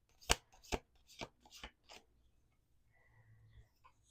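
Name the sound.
shuffling a deck of cards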